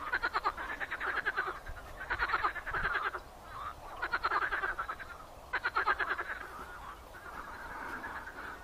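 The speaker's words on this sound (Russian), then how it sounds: "Ну, лягушки, конечно, квакают активно." A few frogs croak in rhythmic rattling bursts near a swamp in Yoshkar-Ola, pausing between each series, moderately loud against a quiet outdoor background.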